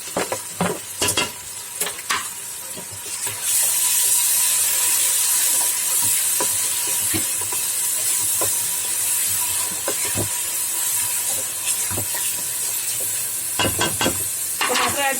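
Tomatoes hit hot spices in a pan, flaring into a loud, steady hissing sizzle, with repeated sharp scrapes and clacks of a spoon stirring throughout, close up and with no voices.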